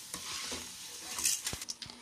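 Peanuts and lentils are roasted in a pan for a bitter gourd spice powder. Close, quiet stirring scrapes and light rattling run over a faint sizzle, with a sharper knock near the middle.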